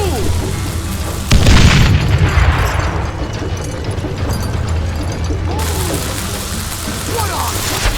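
Dynamite explosion in Call of Juarez Gunslinger, a loud booming blast with a long rumbling tail, heard amid game noise and overlapping voices.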